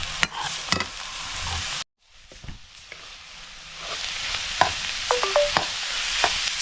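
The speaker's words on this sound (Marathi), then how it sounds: "चला आता आपण मस्तपैकी सगळं एकजीव करून घेतो आहे भाजीला सगळी फोडणी लागली पाहिजे" Raw jackfruit sabji being stirred into its tempering in a pan, crackling sizzle with scraping spoon strokes and clinks, briefly dropping to near silence before the frying and stirring resume.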